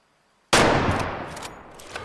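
A single loud rifle shot fired while hunting in the video game Way of the Hunter, a sharp crack after silence followed by a long rolling echo that slowly fades.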